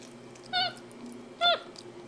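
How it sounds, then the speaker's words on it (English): A pet cat gives two short, clear meows about a second apart, fairly close and moderately loud over a faint low background hum. "She loves playing with her kitty cats."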